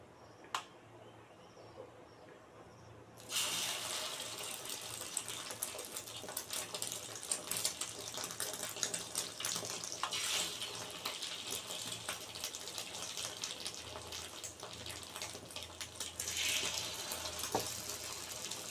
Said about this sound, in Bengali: এবার আমি একটা একটা করে ব্রেড এটার মধ্যে ডুবিয়ে ছেঁকে নেব, ভেজে নেব ভালো করে।